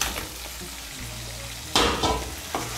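Fried potatoes tipped into sizzling masala for a Bengali shing fish curry with potatoes, then stirred: a steady close hiss broken by a louder scraping burst and a second stir stroke.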